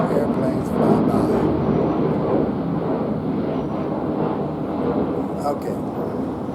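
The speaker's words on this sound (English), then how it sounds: "Excuse the airplanes, but I'm outside in New York City, and you will hear airplanes fly by." Airplanes passing over New York City, heard from outdoors as a steady broad roar that swells slightly early on and then holds at a fairly even, moderately loud level throughout.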